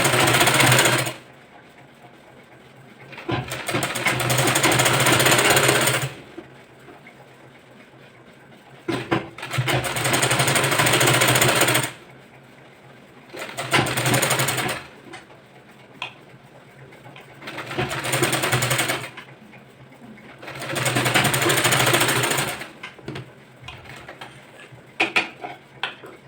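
Sewing machine stitching a strip onto a sleeveless boat-neck blouse, running in five long bursts of steady whirring separated by short quiet pauses, close and loud with no talking.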